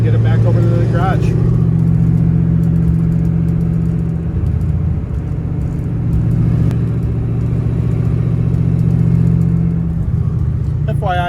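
A drag-racing funny car engine drives back to the garage, a loud, close, steady droning rumble that holds nearly constant with slight swells in pitch.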